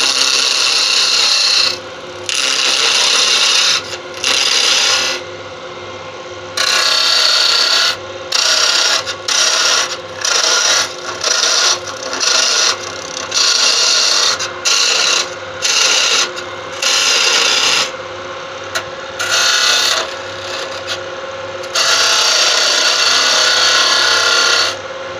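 A carbide tool cuts wood spinning on a lathe, a loud, close, harsh scraping hiss that comes in repeated bursts of a second or two, separated by short quiet gaps as the tool is lifted and reapplied.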